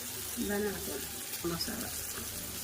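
Onions and curry leaves fry in a pan with a steady, close sizzling hiss that runs the whole time beneath a person talking.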